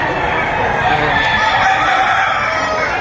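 Gamefowl roosters at the busy Padre Garcia poultry market crow amid a loud, continuous wash of crowd and bird noise, with people talking throughout.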